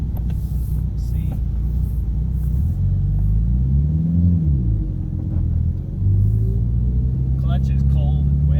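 A project car with an Exedy twin ceramic clutch drives on a road, its engine a steady low rumble heard from inside the cabin, with a brief rise and fall in revs midway and a firmer pull near the end.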